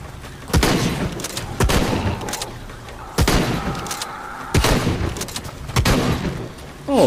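Repeated bursts of gunfire in Shadow of the Tomb Raider, sharp shots and volleys spaced a second or so apart over a steady backdrop of game music and effects.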